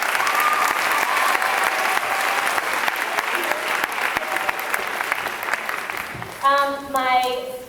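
An audience at a school awards event applauds the recipients with steady, dense clapping that fills the room, and a short burst of voices or cheering rises near the end.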